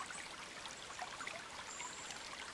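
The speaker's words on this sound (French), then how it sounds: "L'eau qui coule fait partie aussi du son de la nature." Soft, continuous hiss and burble of a stream's flowing water in a natural setting, steady and fairly faint, with no voices.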